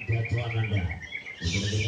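A bird chirps in quick repeated bursts, fairly close and clear, with two phrases separated by a short pause.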